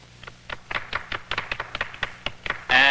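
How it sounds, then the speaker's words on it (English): A small, sparse round of hand claps from a few people, uneven taps building briefly before a louder burst of noise cuts in at the end. "A little applause, please."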